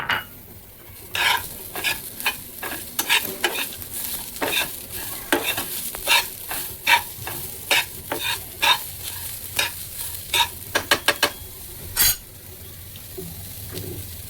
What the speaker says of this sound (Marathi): हे ओलं खोबरं सुद्धा आपण भाजून घेऊया आणि त्यामध्ये आता आपण तसाच हा कांदा पण टाकूया।